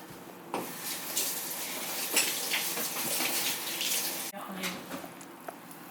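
Milk and mixed ingredients for a French-style baked rice cake batter being stirred in a bowl, a steady wet swishing and sloshing with occasional utensil clinks against the bowl, moderately close and continuous, with no talk.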